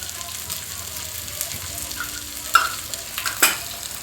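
Okra fries in a pan as turmeric goes in, a soft continuous sizzle with light stirring and two sharp clinks of utensil on pan near the end.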